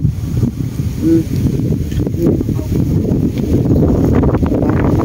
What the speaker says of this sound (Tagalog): lakas na lumakas ang hangin eh